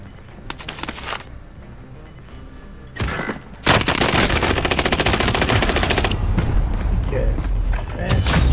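Automatic weapon fire in a Call of Duty Warzone match, with a short burst, a pause, then a long, loud sustained stretch of rapid gunfire close by, with faint voices underneath.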